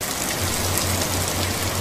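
Steady rain sound effect in an English lesson for young learners, a continuous even hiss of falling drops with a low hum beneath, with no voices over it.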